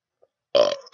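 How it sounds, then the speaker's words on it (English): A single short, loud burp from a person, on its own after near silence, with a faint tail at the end. "Let me get rid of this burp real quick."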